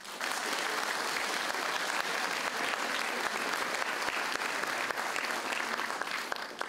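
A school audience applauds warmly after a concert held for the school patron's day. Thick, continuous clapping runs at a constant level throughout, with no talking over it.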